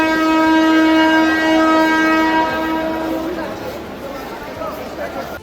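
At Sealdah railway station, a train sounds a loud, sustained horn blast for about two and a half seconds. It then fades into rumbling platform noise, with people talking throughout.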